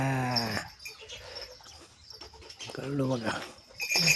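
A small puppy at a farm cattle shed whimpers in short, high whiny bursts, mixed with nearby voices talking over it.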